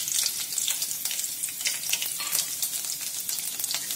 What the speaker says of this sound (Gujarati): તો હવે તેની અંદર આપણે 1 ચપટી જેટલી રાઈ એડ કરીશું અને સાથે મેં સૂકા લસણની 2 કળીને આ રીતે ઝીણી ઝીણી કટ કરી છે તે અંદર લઈ લઈશું.